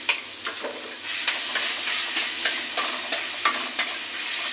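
Crushed garlic, about a spoonful, frying in hot oil, a steady sizzle broken by regular scraping stirs of a spatula roughly every half second, close and clear with no talking.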